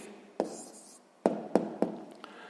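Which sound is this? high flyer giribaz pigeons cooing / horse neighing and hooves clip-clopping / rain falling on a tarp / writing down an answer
writing down an answer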